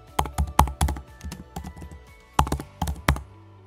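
Code being typed on a computer keyboard, loud and close, in quick bursts of clattering keystrokes broken by short pauses, with a few heavier key strikes and no voices.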